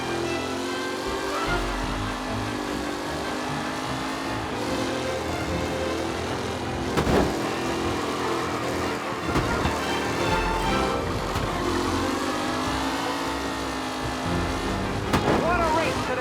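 Race cars roar past in a racing event in Mafia: Definitive Edition, engines droning steadily and loudly throughout with a few sharper bursts, while a voice talks over the noise.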